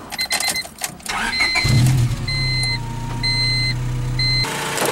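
A red Honda hatchback with a D16Y7 engine cranks and starts, then idles steadily up close while an electronic chime beeps in short, regular bursts.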